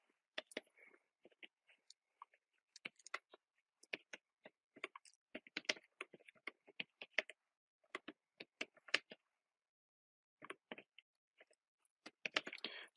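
Someone types on a computer keyboard to enter work order details about a pump replacement on site. Quiet, close key clicks come in irregular bursts and short runs with pauses between them, and nobody talks.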